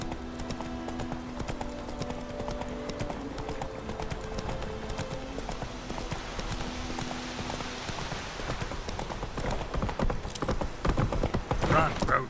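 Roach the horse gallops in The Witcher 3, hooves clip-clopping in a quick steady rhythm beneath game music and voices, with the pace and clatter growing louder and busier toward the end.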